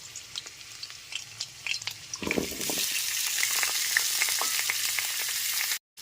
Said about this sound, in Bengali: এবার গ্যাসের ফ্লেমটা মিডিয়ামে রেখে আলু আর কুমড়োটাকে একটু সময় নিয়ে ভেজে নেব